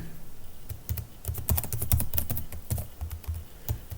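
Rapid, uneven keystrokes on a computer keyboard, close and clear, in bursts of clicks with brief pauses and no talk.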